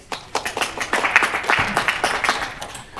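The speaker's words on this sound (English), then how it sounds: "So a round of applause for all of you." Audience applause at an AI World Conference panel event, a burst of dense clapping from a crowd lasting a few seconds, steady and fairly close.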